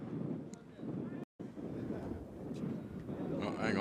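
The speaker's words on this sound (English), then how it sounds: "You can hear the wind that has really got up here around the PaulRicard circuit" Strong wind buffets the microphone at the Paul Ricard racing circuit, a steady, loud, low roar with a brief dropout and gusts swelling toward the end, while a voice talks faintly underneath.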